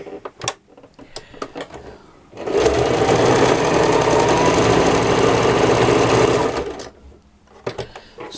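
Sewing machine stitching patchwork, running in one loud continuous whirring burst of about four seconds, with softer handling clicks and rustles before and after.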